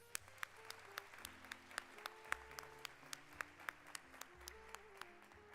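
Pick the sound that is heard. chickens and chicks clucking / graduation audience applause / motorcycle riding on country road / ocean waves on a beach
graduation audience applause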